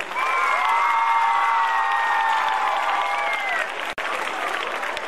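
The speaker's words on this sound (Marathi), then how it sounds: "जोरदार टाळ्या झाल्या पाहिजे." Loud, sustained applause from a school audience at an annual gathering, dense clapping with some cheering, dropping away briefly near the end and then resuming.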